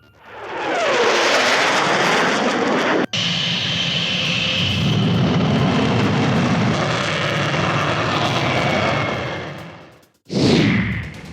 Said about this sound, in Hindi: एलएसी पर राफेल की दहाड़